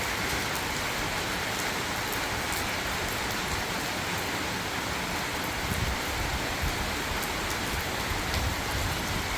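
Steady rain pours down in a dense, even hiss that holds unbroken throughout, with faint spatters of drops landing on a nearby surface.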